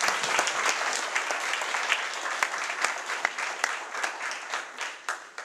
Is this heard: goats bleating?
no